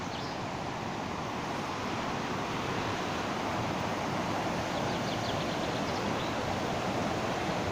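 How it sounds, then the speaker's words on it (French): A small waterfall rushes in a steady, broadband roar, continuous and fairly close, with no voices over it. "Oh, elle est là, la cascade."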